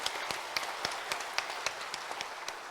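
A church congregation applauds its choir after a hymn: steady, dense clapping from a crowd, with occasional sharper individual claps standing out over the continuous patter.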